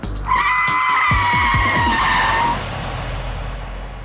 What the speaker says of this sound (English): When you come down, brake the car and lock the wheels